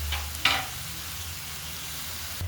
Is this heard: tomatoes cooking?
yes